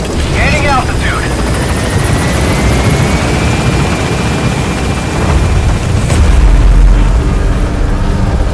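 The B-Quad helicopter in Metal Gear Solid V lifts off and gains altitude, its loud, steady rotor roar filling the scene alongside muffled booms and radio-style voice chatter, with a deeper rumble swelling near the end.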